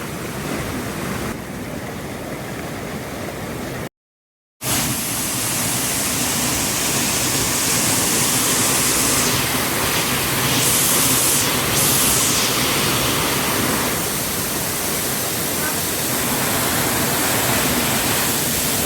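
Steady, broad roar of Ulu Pentanu Waterfall in Bali, a dense continuous rush of falling water close by, briefly cut out for a moment near the start and otherwise unbroken throughout.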